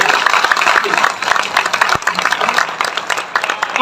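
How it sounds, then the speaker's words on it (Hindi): A crowd of devotees claps at a Ram Katha religious discourse, thick, rapid applause that stays busy and fairly loud throughout, with voices mixed in underneath. "डालेंगे तो तालियां बजाइए"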